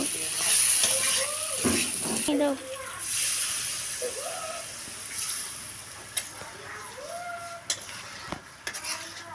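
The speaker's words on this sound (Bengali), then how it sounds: "তো এখন আমসত্বটা ওর ভিতরে দিয়ে ভালোভাবে মিশিয়ে নেব কষিয়ে নেব" Mango leather stirred into frying taro, Bengali style, gives a soft, continuous sizzle with occasional spoon scrapes and taps, heard beneath someone talking throughout.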